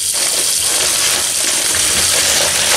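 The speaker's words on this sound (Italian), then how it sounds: "Intanto riempio una vaschetta con acqua fredda." Cold tap water gushes steadily into a small tub at a kitchen sink while mussels are being prepared, a close, continuous rushing pour with no one speaking.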